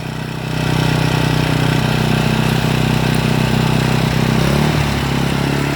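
A small motorized tiller engine running steadily while tilling soil, loud and close, with a constant droning hum that rises as it comes under load and holds without a break.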